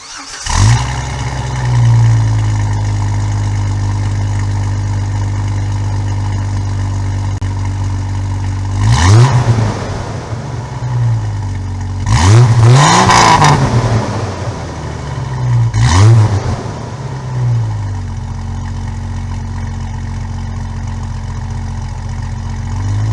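Jeep TJ Wrangler engine fitted with a Dynomax cat-back exhaust and Bosal cat, idling at a deep, steady rumble, then revved hard in three bursts before settling back to idle, loud and close, with no talk.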